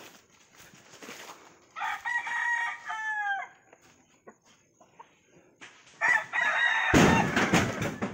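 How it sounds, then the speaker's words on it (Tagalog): Roosters crow loudly and repeatedly among the pens of a fighting cock farm on Mt. Manunggal in Balamban, Cebu, with long rising calls answering one another close by and scattered clucks between them. "Sa ibaba ay manukan. Kulungan ng mga panabong na manok."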